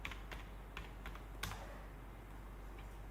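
Scattered keystrokes on a computer keyboard while typing a search, a handful of faint, irregular clicks over quiet room hiss with no talking.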